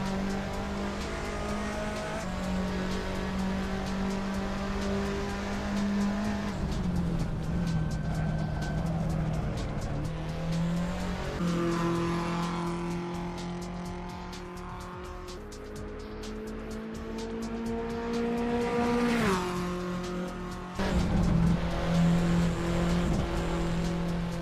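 Race car lapping Thruxton in Assetto Corsa, engine droning steadily and rising through gear changes with pitch drops on shifts and brief tire squeal, loud and continuous.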